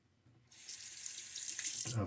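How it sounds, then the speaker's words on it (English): Tap water runs into a sink while more water is added to shaving lather from a block of Cella soap. After a short quiet start the stream comes on close and keeps flowing steadily. "I'm going to add a little bit more water."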